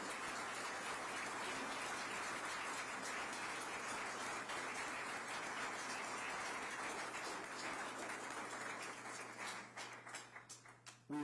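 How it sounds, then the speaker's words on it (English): An audience applauds to welcome special guests at the Lantos Human Rights Prize ceremony honouring Irwin Cotler, a steady wash of clapping with a constant low hum beneath, thinning into scattered claps near the end. "I would ask you all to join me now in a round of applause to welcome our special"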